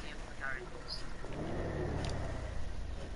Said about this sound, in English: That car sounds cool.